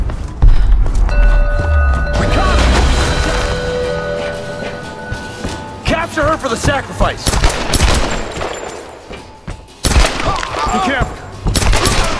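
Gunfire bursts and rattles through a tense combat stretch in the video game Tomb Raider, shots and impacts clustering in loud flurries over a rumbling background, with voices shouting amid the fighting.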